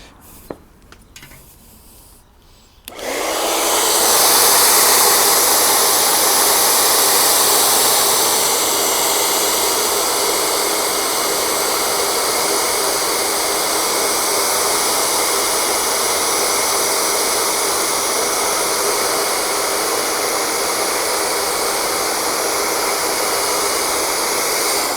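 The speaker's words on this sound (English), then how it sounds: "nice using the blow dryer as well, just because it doesn't get as hot as a heat gun" After a few quiet seconds, a blow dryer used on a carbon fiber spoiler on a BMW F80 M3 switches on and runs loudly and steadily, a constant airy roar without a break.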